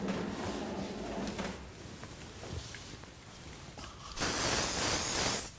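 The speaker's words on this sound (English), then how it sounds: "spray with the hairspray" Hairspray sprayed onto hair while styling a quiff, a loud close hiss lasting over a second near the end, after quieter handling sounds.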